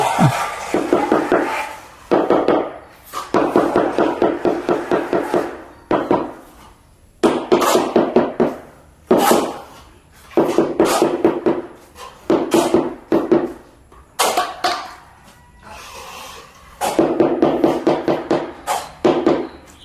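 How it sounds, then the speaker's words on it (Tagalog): Bursts of rapid hammer strikes ring out in clusters, separated by short pauses, sharp and close, repeating over and over. "Na martilyo yung hawak mo."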